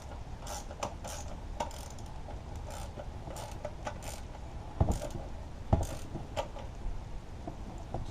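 Socket ratchet snugging a bolt on a Mercury 135 outboard water pump, heard as scattered light mechanical clicks and short ratcheting bursts with a couple of sharper knocks, close by and without talk.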